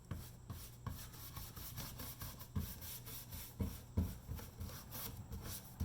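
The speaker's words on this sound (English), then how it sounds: "So I'm just going to do some black wax on here now." Black wax rubbed by hand onto a decoupage piece, a close, soft scraping and brushing friction in uneven strokes with small knocks, no talking.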